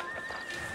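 A horse whinnies briefly in a video game, a short faint neigh with a hint of hooves, alone and without talk.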